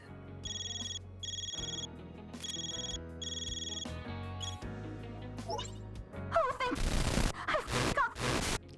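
A phone rings in the Trails through Daybreak II video game as a repeating electronic ringtone in short bursts, followed by gasps and a sigh from the character's voice.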